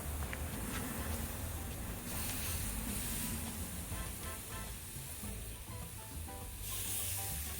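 Curry-marinated chicken skewers sizzle and spit over a hot barbecue grill, a dense, continuous crackling hiss that stays fairly loud and close throughout, with no voices.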